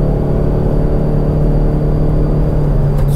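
A Toyota Fortuner's engine pulls hard in third gear, a loud, steady, close droning rumble with a rising hum and no talking.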